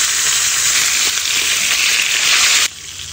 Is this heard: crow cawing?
no